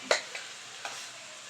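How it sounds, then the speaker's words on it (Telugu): Ground masala paste is stirred into a sizzling capsicum curry, with three quick scraping strokes, the first the loudest, over a faint steady sizzle. "వేసేసుకొని మంచిగా కలుపుకోవాలి మొత్తం అంతా కలిసేటట్టు కలుపుకొని"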